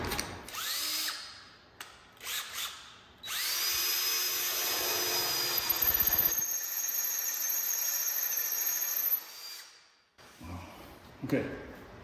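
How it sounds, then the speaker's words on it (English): A power drill with a 3/8 inch bit bores into steel while a trailer D-ring tie-down anchor is installed. It makes a loud, sustained whining grind with a high squeal, preceded and followed by short bursts and clicks, with voices nearby. "Now I'll test it with the actual 3/8 inch bit here."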